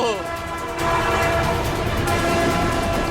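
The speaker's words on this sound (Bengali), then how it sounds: "ট্রেন আসছে তো" A train approaches on the rails with a loud, sustained horn sounding over the steady rumble and clatter of the cars, close and continuous throughout.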